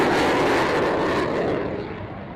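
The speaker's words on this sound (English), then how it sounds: "it's a fully loaded Typhoon" A fully loaded Eurofighter Typhoon fighter jet roars loud and broad at the Fairford airshow, a dense, rushing engine noise that slowly fades as it moves away.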